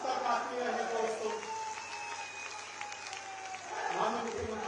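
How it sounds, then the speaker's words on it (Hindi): A crowd at a political rally with the chief minister present claps in a sustained, fairly faint round of applause, with an announcer's voice sounding over it. "आपकी तालियां मंच तक आती रहे"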